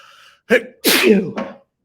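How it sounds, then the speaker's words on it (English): A sharp intake of breath, then one loud, explosive sneeze up close, followed by a short breathy tail. "I think I have to sneeze."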